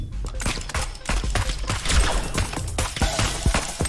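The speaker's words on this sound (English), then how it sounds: "Is it pills or bullets that you're shooting at me?" A boss in the Neon Abyss game fires a rapid barrage of shots, a dense, loud volley of gunfire bursts and impacts over pounding game music, with a voice talking now and then.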